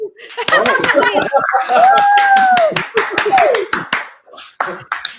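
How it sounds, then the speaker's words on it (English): A small group claps in short bursts of hand claps, loud and close, with a voice and other voices talking over it and a brief whistled or sung tone. "Everyone keep clapping."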